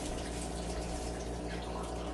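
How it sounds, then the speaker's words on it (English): Water pouring steadily into a pan of vegetables while cooking, a continuous broadband splashing rush close by, with no talking. "I want to put a little bit more water in there"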